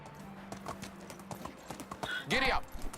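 A horse ridden in the video game Medieval Dynasty clip-clops in a steady trotting rhythm up close, with a short whinny partway through and a voice speaking over the hoofbeats.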